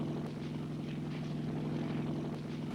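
A Jet Ranger helicopter in flight gives a steady, low rotor and engine drone that stays even throughout, moderately distant and fairly faint, with no voices.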